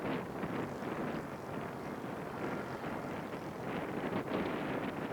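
Strong, fierce wind roars steadily across the microphone at an outdoor scale model aircraft show, a continuous low buffeting rumble with no voices.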